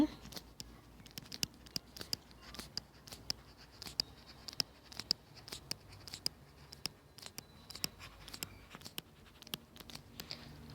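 Handwriting with a pen on paper, faint close scratchy strokes and light taps recurring in an irregular rhythm against a quiet background, with no talk.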